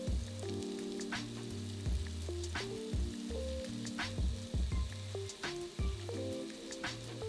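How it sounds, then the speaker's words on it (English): Onions cook in butter or olive oil in a soup pot, giving a steady soft sizzle with occasional sharper crackles, heard under background music with low stepped notes. "add your onions, and you want to cook these for about 3 to 5 minutes"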